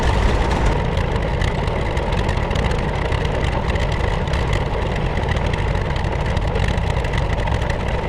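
An old tractor idles at a threshing bee, its engine a steady, loud, low-pitched rumble that holds without a break from start to finish, with no voices over it.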